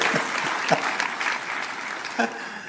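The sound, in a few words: audience applause at a university event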